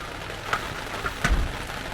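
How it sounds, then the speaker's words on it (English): Steady patter of rain falling at a dispersed campsite in Blueridge, Arizona, a soft continuous hiss with a few louder drops and thumps close by. "And it's raining."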